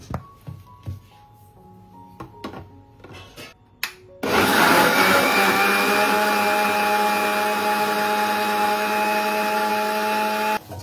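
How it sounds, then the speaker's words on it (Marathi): A mixer grinder blending chikoo milkshake with milk and sugar starts abruptly after a few clinks and knocks of setup, then runs as a loud, steady, close whirring drone to the end. "आणि मस्त आता मिक्सरला लावून घेऊ"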